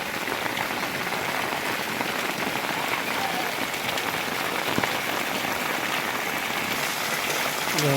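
Steady unseasonal rain pours down on a farm in Shedhakhai village near Bhanvad, Devbhumi Dwarka, a dense continuous patter with no voices.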